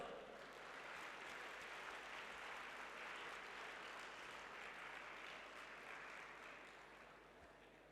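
An audience at a seminar session applauds, a sustained crowd of clapping hands that holds steady for several seconds and then slowly tapers off.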